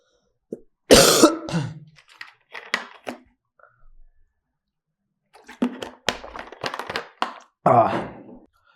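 Several loud, close coughs and throat clearing, scattered in bursts with quiet gaps between them.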